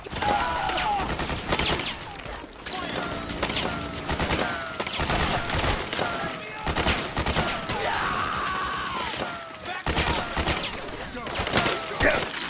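Metal Gear Solid 4: Guns of the Patriots battle with sustained loud gunfire, rapid automatic bursts and single shots throughout, under shouted commands and groans from soldiers.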